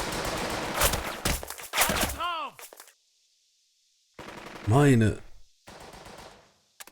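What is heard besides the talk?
machine gun fire in the video game Burden of Command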